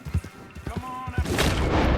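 Gunfire in the game Red Dead Redemption 2, a few quick low pops and booms close together, then a louder burst, with someone talking over the shots.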